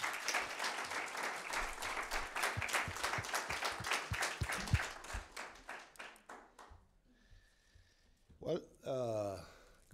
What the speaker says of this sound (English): applause to Tono